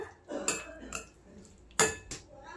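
A spoon clinks and scrapes against a pan as cheese sheets are folded into vegetables, giving several sharp metallic knocks amid softer shuffling, close and quiet.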